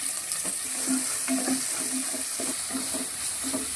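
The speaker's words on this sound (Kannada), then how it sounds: "ಈರುಳ್ಳಿ ಬ್ರೌನ್ ಕಲರ್ ಬರೋ ತನಕ ನಾವು ಕಾಯಿಸ್ಕೋಬೇಕು ನೋಡಿ" A large onion fries with cumin seeds in a pan for a bitter gourd gojju. A steady close sizzle runs throughout, broken by rhythmic scraping and stirring taps.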